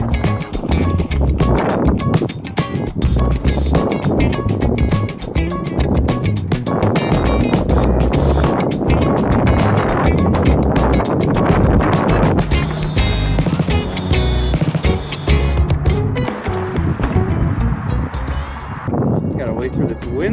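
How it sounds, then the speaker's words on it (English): Strong wind buffets the microphone outdoors beside a Trek Roscoe 7 bike, a constant loud roaring rumble that barely lets up for the whole stretch. "Wait for this wind to die down"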